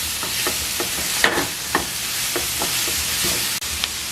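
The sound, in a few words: stirring nacho mixture in a pan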